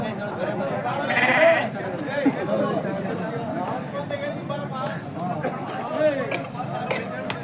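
Lambs bleat repeatedly at a livestock market for young animals, the calls rising over a busy mix of nearby voices and crowd chatter.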